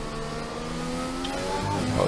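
Race car engine in F1 2020 at the Singapore Grand Prix, a steady high whine holding through the final corners, rising slightly in pitch with gear-like harmonic shifts, loud and continuous with no talk.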